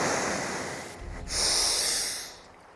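A slow breath for a breathing exercise: a soft inhale, a brief pause, then a longer, louder rushing exhale, close to the mic with no talk.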